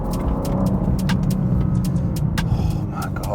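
BMW M2 G87 accelerating up a mountain road at about 2,500 feet, a steady close engine drone with dense low rumble, gear-change ticks and brief higher whines running throughout.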